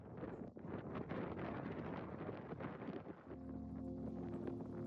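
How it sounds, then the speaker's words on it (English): Wind roars continuously against the microphone in rough buffeting gusts on the North Rim of the Grand Canyon, then a steadier humming tone joins in near the end. "the wind really picked up"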